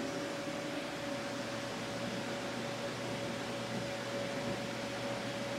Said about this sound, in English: 2 2-horse blowers plus the vacuum cleaner all starting up at the same time